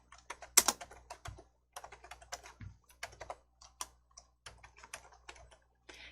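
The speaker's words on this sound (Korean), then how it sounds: "키보드에 윈도우 키 누르시고 마침표" Keyboard keys pressed on a computer keyboard, including the Windows key and period; a quiet, close run of irregular clicks and taps with brief pauses between them and no talk.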